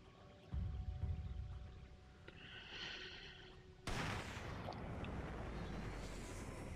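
A sniper rifle headshot in the mobile game Sniper 3D Assassin: quiet rumbling ambience, then a sharp, abrupt crack that bursts into a sustained broadband roar and echo. The sound is fairly faint overall, with no voices.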